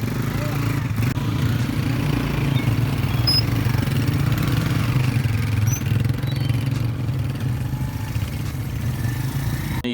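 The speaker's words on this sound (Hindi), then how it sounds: "उसके बाद हम निकल पड़े बाइक्स पे।" Motorcycles ride a rough mountain track from Basal valley toward Shigar in northern Pakistan, giving a steady low engine drone that stays loud and continuous throughout, with faint rattles on top.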